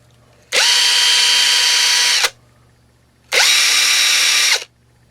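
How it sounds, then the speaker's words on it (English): A cordless impact-style power tool spins at full speed in reverse, two loud steady whirring bursts of about two seconds and one second each, close by, with a quiet pause between. "In reverse, it's going to run at top speed because you want to rip those bolts off, or those nuts off, rather"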